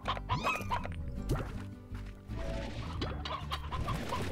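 Chickens cluck in the Slime Rancher game, several quick bursts of hen clucks at close range, with scattered softer game noises around them.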